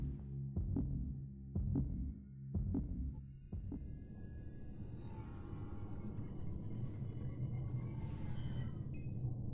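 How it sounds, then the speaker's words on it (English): In the Mass Effect 2 video game, a low, muffled heartbeat thumps in a steady rhythm of several beats during an unloading sequence, then gives way to a continuous low hum and rumble. "Oh, so the heartbeat wasn't from me being injured."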